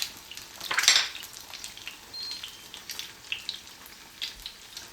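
Eggs frying in a pan for a healthy brunch, with a soft crackling sizzle throughout, a louder burst of spitting near the start, and faint clinks of cookware scattered across it.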